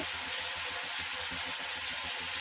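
Bitter gourd and small new potatoes frying in a pan, a faint, steady hiss and crackle of oil with no talk.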